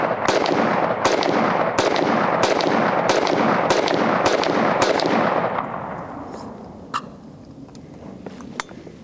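A Bear Creek 7.62x39 AR-15 rifle fires about eight loud, evenly spaced shots up close, each crack followed by a short echo, then the reverberation fades and a couple of faint clicks follow.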